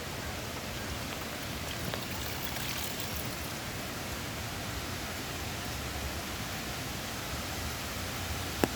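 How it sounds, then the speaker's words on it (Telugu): Rain-fed water pours through a small dam that supplies drinking water to an institute, making a steady, dense rushing hiss that stays even throughout with no voices. "మా డ్యాంలో వాటర్ ఎలా వెళ్తుందో చూపిస్తాను"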